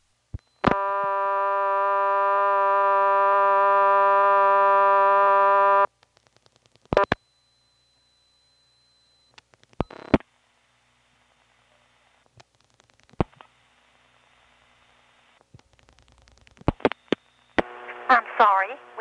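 Calls placed through an XY step switching telephone exchange in 1977 North Carolina, heard on the line: a long steady tone, then sharp clicks, brief tones and mechanical switching pulses, with short signal bursts at the end.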